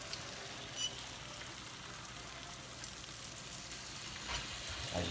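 Eggs cooking in a pan for breakfast burritos, a soft steady sizzle with faint scrapes of a spatula pushing the egg toward the center, close and quiet.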